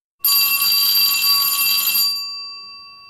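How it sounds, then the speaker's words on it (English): A single bright bell rings sharply for about two seconds, then its tone lingers and decays slowly. "let's ring the bell"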